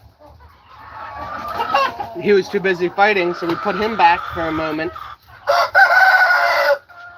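A rooster crows loudly and close by in several drawn-out, wavering calls, and chickens cluck around it on an Aklan farm, while someone talks at the same time.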